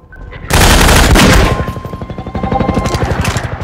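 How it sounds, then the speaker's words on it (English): Loud enemy gunfire in Half-Life 2: a dense, blasting burst of automatic fire, then a rapid, evenly spaced rattle of shots that continues to the end, with no talking. "And now we have a guy shooting at us."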